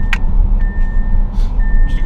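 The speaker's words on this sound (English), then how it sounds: "This is gonna keep beeping." Inside an Audi RS7, a warning chime sounds in a steady, evenly spaced series of beeps over a loud, low engine and road rumble, with no one speaking.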